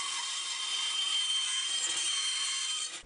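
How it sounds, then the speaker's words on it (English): Handsaw cutting through plywood around a paper gear template, one continuous close, hissing rasp of blade on wood that fades out at the end, with no talk. "Next, we cut out the approximate shape of the circle around the gear template."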